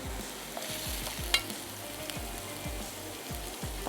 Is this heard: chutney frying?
yes